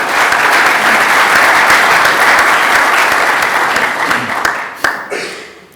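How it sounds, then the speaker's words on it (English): Conference audience at a keynote applauds loudly and steadily, the dense clapping holding for several seconds before thinning out and fading, with a last few scattered claps near the end. "I think we should give them a hand of applause."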